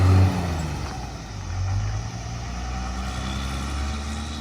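A Cummins diesel truck fitted with a 4-inch MBRP exhaust and muffler, heard from inside the cab, gives a low steady engine drone with a brief swell of power and a faint turbo whistle.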